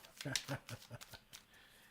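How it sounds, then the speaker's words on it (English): A deck of tarot-style reading cards being shuffled by hand, a series of quick riffling and flicking bursts at close range, some run together and then trailing off. "these cards don't even want to shuffle themselves"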